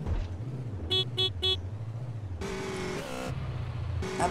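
A car horn in GTA: San Andreas Multiplayer honks three quick short beeps over a low engine drone, then two longer blasts follow, and a final honk comes at the end.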